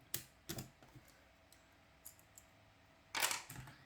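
Keys are pressed on a Ducky One 2 Mini keyboard with Cherry MX Brown switches. A handful of sharp, scattered clicks sound close by, ending in a louder cluster of keystrokes, with no talking.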